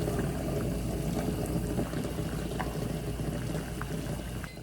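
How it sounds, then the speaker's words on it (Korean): Eggs boil in a pot of water on medium-high heat while being stirred steadily in one direction, a continuous bubbling, churning wash of water with no talking. "이렇게 한 방향으로 1분 정도 끓어오르면 저어줍니다"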